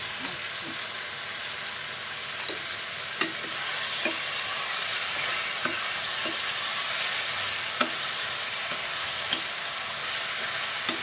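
Ridge gourd and onion fry in mustard oil tempered with nigella seeds, a steady close sizzle broken by sharp scrapes and taps of a spatula stirring the pan at irregular intervals.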